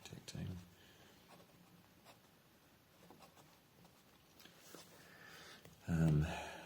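A fountain pen nib scratches faintly across paper in short strokes up close, with a couple of louder bumps of handling and a little voice in the background.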